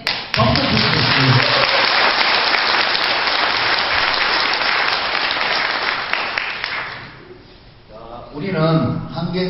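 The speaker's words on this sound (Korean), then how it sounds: "박수 부탁드립니다." Loud, sustained audience applause fills a hall at a Korean company's 2018 year-end party, thinning out near the end as a voice starts speaking.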